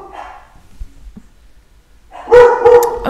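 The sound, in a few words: dogs barking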